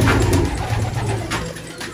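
Pigeons coo steadily from a hidden nest where two young birds have hatched, a soft, low, continuous cooing close by with no voices over it.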